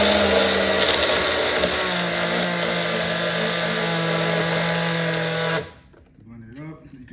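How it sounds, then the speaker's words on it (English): A small blender whirs loudly and steadily, chopping fruit for vegan protein ice cream, then cuts off abruptly near the end, leaving quiet room sound and a voice. "we're doing this so it can blend all the fruits"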